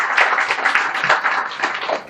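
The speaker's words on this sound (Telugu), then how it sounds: "ఒకసారి గట్టిగా చప్పట్లు కొట్టి అభినందనలు తెలియజేయండి" A crowd claps steadily for hospital staff at a public event, a dense, continuous patter of many hands at close range.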